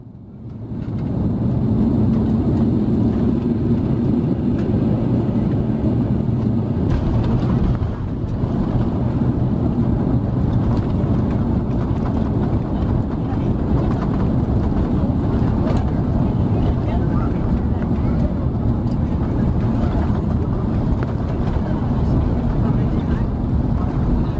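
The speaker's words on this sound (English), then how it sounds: "Now please enjoy this simulated landing footage." Vietnam Airlines flight VN321 from Kansai to Ho Chi Minh City comes in to land, a steady loud broadband roar of engines and rushing air filling the cabin without a break.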